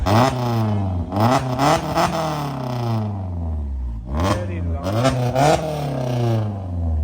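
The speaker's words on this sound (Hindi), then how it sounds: "He is driving the car now, is going to rev the car." A car engine revs in repeated sharp bursts, each rising then falling away, with short pauses between, close and loud in a street market setting, with a voice speaking faintly under it.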